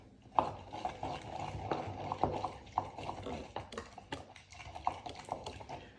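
Crushed garlic mixed around with sea salt in a small bowl, quiet scraping and clinking stirs repeating at an uneven pace, close and fairly soft.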